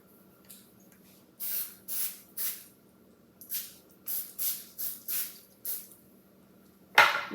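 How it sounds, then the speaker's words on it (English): Cooking spray sprayed onto a knife in a home kitchen, about ten short hissing bursts in uneven rhythm, close and fairly quiet, followed by a sharp clatter at the end. "With some cooking spray, just to make it a little bit easier to cut."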